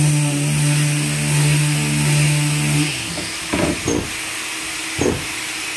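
Sandpaper is rubbed by hand along a cabinet door edge in a few short, rasping scrapes. A steady mechanical hum comes first and then cuts out.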